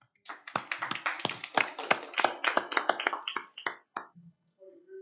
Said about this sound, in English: So you maybe give Cody a little round of applause.